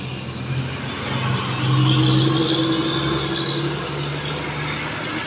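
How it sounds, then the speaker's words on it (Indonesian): A Kurnia bus accelerates hard on a road, its engine droning loud and near with a rising, sustained roar over steady road rumble. "Kurnia di sana. Tancap gas dia"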